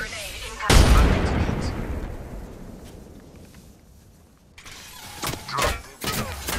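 Gunfire in the shooter Apex Legends: a loud blast up close, then a long decaying rumble, followed by scattered sharp shots and cracks near the end.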